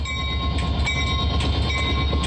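The Agawa Canyon tour train in Ontario, which departs from Sault Ste. Marie, gives a loud, steady rolling rumble with faint rail clatter and thin tonal squeals throughout, with no voices.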